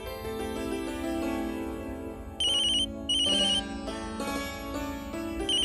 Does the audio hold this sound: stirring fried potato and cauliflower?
no